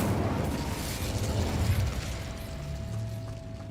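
The Incendio fire spell in Hogwarts Legacy produces a steady, dense whoosh of flame with a rumbling burst, followed by a thin sustained tone that lingers as the fire dies down.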